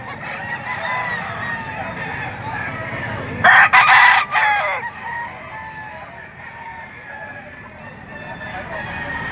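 A gamefowl stag crows loudly once at a busy livestock auction market in Lipa, Batangas, a bright piercing call cutting above a steady crowd murmur and background chatter.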